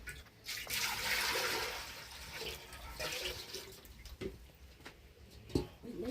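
Water is poured into a cooking pot at an outdoor firewood cooking spot in an African village, a soft, faint splashing and trickling that runs for several seconds with a few small knocks.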